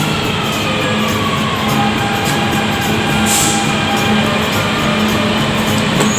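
A metro train arriving at a station rumbles loudly nearby with a steady mechanical drone and faint squealing tones, a brief high hiss in the middle.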